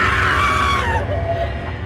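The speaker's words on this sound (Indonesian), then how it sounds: "Energi terkuras karena teriakan ketakutan." Riders on a haunted house ride let out a loud, sustained frightened scream over a rumbling vehicle, the shriek fading partway through as the low rumble continues.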